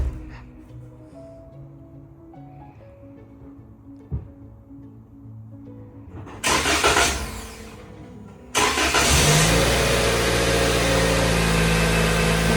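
A car engine is started in the morning: quiet household sounds first, then the starter cranks and the motor catches, and it settles into a loud, steady idle nearby.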